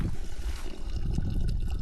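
Water trickles steadily from a pipe into a tub outdoors at a hot spring, a close, continuous bubbling gurgle with a low rumbling undertone.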